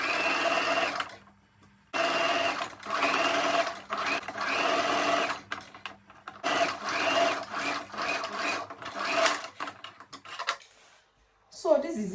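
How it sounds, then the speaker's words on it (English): A sewing machine stitches turban fabric in several bursts of fast, close mechanical whirring separated by short pauses; a voice speaks briefly near the end. "you take your fabric to your sewing machine and sew it down from this end round to this side"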